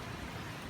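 Steady, dense rain during Hurricane Sally in a residential subdivision, a brief wash of constant hiss with no distinct drops or talking.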